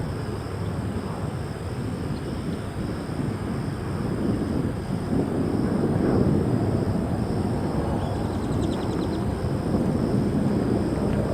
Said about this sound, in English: Alaska Airlines Flight 1003. It's pushing back now for a journey to Seattle.